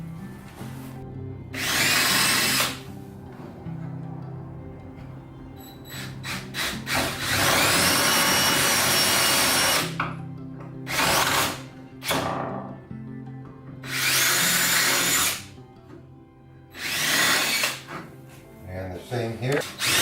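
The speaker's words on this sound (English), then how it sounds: "Drill them for a 1/4 inch dowel." A power drill bores 1/4 inch dowel holes into pieces of scrap wood in several loud, whining bursts of a few seconds each, with a person talking in between.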